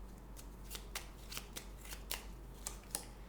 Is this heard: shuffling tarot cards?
yes